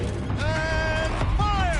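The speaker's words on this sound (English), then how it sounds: "Rotate turret!" Tank turret traversing in a video game, a short, loud mechanical creak with a whining, ratcheting groan over a steady rumbling background.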